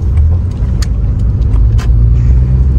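A car drives along with a steady low road rumble from the engine and tyres, close and continuous, with a few faint clicks and thuds from inside the car.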